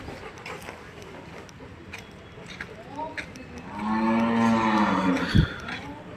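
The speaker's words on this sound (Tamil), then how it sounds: "இப்போ அந்த இடத்துல மாடு மேய்ச்சிட்ருக்கு" Cattle grazing in a field moo loudly in one long, drawn-out call that swells midway, with a dog whimpering briefly and low rustling in the background.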